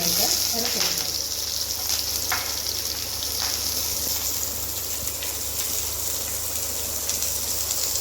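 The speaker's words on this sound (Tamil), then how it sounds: "வெங்காயத்தை கொஞ்சம் நல்லா வதக்கிக்கலாம்." Chopped big onions with curry leaves sizzle steadily in a pan while being sautéed for an egg chukka, a continuous close frying hiss with a few faint clinks, no talk.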